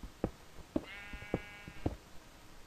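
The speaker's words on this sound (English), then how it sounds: "I hear sheep." Sheep in the video game Minecraft bleat four times in short, evenly spaced calls, fairly faint against a quiet game background.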